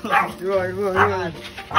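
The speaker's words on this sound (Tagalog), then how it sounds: "Aso." A dog gives a few short, whiny barks and yips close by, with a tonal, almost whimpering quality.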